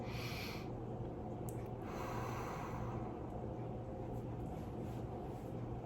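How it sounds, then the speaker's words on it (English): A person doing a relaxation breathing exercise takes forceful breaths through the nose, audible as snorting and gasping air over a constant low hum, with no speech. "Then start breathing like this."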